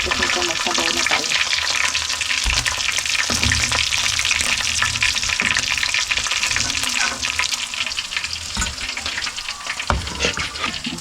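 Fish sizzling and crackling steadily as it fries in a pan, with occasional stirring clatter and a running tap in the background, while a person talks over the cooking.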